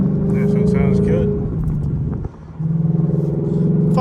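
Ford Mustang engine pulling in fourth gear, a loud low rumble that drops briefly then returns, with someone speaking over it.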